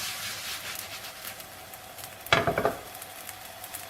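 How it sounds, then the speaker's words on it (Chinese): Flatbread dough laid into a hot, lightly oiled pan sets off a sudden loud sizzle that fades over half a second, after a quiet stretch of faint background hiss. "油热以后，放入饼皮"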